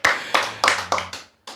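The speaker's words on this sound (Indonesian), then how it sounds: "Tepuk tangan." Hands clap in a live audience at a casual talk gathering in Sunter, North Jakarta: about five sharp, evenly spaced claps, close and fairly loud, ending in a brief pause before one more clap.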